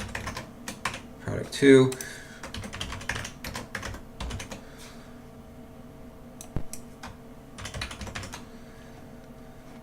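Fingers type a product name on a computer keyboard, a rapid, uneven run of close key clicks with a few louder taps, while a voice speaks briefly over the typing.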